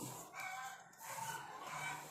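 Chickens clucking and calling nearby, a few overlapping squawks rising and falling over a couple of seconds, no voices.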